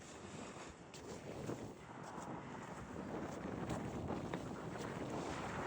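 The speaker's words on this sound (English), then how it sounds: "It is a little bit windy down here." Wind buffets the microphone on a sunny stretch of Gulf Beach, a continuous rushing roar that swells and eases, with surf faintly underneath.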